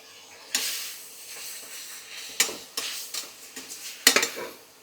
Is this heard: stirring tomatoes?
yes